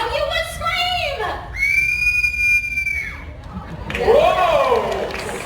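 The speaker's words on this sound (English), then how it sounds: "Let's all hear how you would scream." A woman lets out a long, high, sustained horror-movie scream in the style of facing Norman Bates, at a special effects show at Universal Studios, ringing out over crowd noise with other voices before and after.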